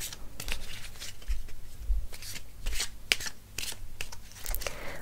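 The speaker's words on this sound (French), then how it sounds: "Alors on va battre les cartes." Playing cards being shuffled close up in a quiet shop setting, a run of crisp riffling flutters and soft slides repeating several times without talk.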